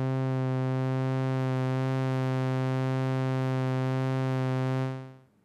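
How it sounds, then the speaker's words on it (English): A steady lo-fi synth note built from a saw wave and darkened with the dark slider in Flux machine, holding a smooth, rich buzzing tone for about five seconds before fading out. "let's remove some of that harshness by turning up the dark slider in Flux machine"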